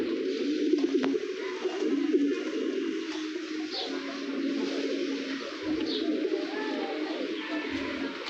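Low, continuous cooing from a large racer pigeon close by, a soft throaty murmur that rises and falls without pause.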